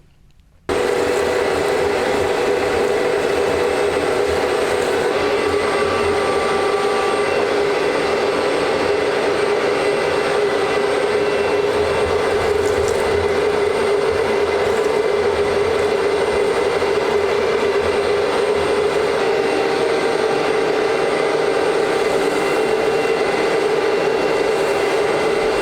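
A shop vac sucking debris out of the heat exchangers of a Lanair waste oil heater switches on in the first second, then holds a loud, steady whooshing roar for the rest of the stretch.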